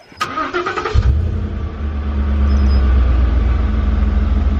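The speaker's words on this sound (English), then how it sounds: "this is what the truck sounds like stock." A stock Ford F-150 pickup's V8 engine cranks over for about a second, then catches and settles into a deep, steady rumbling idle, close by and loud, with no voices.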